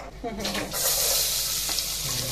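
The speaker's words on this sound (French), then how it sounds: "on laisse l'oignon et l'ail revenir" Chopped onion and garlic hit hot oil in a pan, bursting into a loud, steady sizzle after a brief stir and clatter, continuing close and unbroken with faint background voice.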